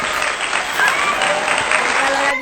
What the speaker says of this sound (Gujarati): તાળીઓ માર, તાળીઓ માર